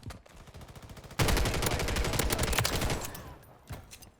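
Rapid automatic gunfire from a DG-58 LSW in Call of Duty MW3 multiplayer, a light buzz of shots that jumps to loud sustained bursts, then tapers off with a final few shots.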